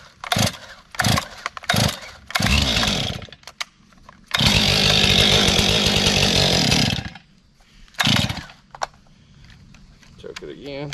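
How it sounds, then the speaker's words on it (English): Small engine cranked repeatedly with the choke on, used alongside an 8-foot box blade for grading a new lawn: several short, loud pull-start bursts, then one sustained roaring run for a few seconds before cutting out, with brief talk between attempts. "This thing's not been started in a couple days, so let's choke."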